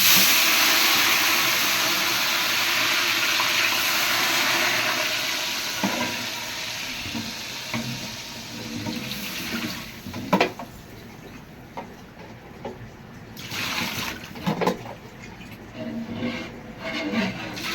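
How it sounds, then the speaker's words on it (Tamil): Water is poured into a pan of roasting kesari with raisins, starting as a steady broadband rush and settling into sizzling, bubbling hiss broken by several clanks and stirring knocks, with no talking. "இப்போ தண்ணி ஊற்றிடுவோம்."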